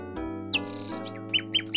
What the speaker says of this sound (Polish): O, tu mam jakieś słowika.